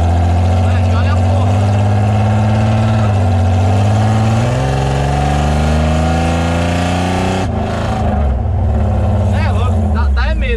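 A hot rod car fitted with a BMW engine runs loud and close, its droning note shifting upward in pitch as it revs, then breaking into rougher bursts near the end.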